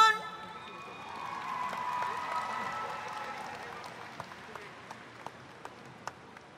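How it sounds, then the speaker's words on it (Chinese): An outdoor crowd at the opening ceremony of a national Indigenous peoples' sports games gives sustained distant applause that slowly fades, with a few isolated claps at the end. "我们再次热烈的掌声"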